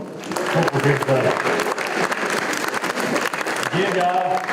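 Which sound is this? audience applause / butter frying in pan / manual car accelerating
audience applause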